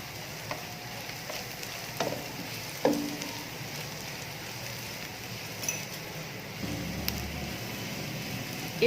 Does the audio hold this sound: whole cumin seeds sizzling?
yes